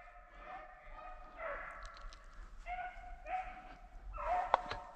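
Backyard-bred rabbit hunting dogs in a Mississippi swamp bark, yip and whimper in overlapping bursts at a moderate distance, with some faint outdoor background noise.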